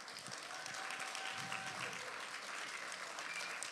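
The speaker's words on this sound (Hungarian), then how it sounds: "Erre nem olyan sokan tapsolnak." A modest round of applause from a church congregation at a Christmas service, steady clapping from a sizable group at a distance, fairly faint throughout.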